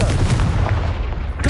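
Hogwarts Legacy's Confringo blasting spell going off as a loud, heavy boom with a thick low-end rumble that stays dense and forceful through the short moment before a slight fade.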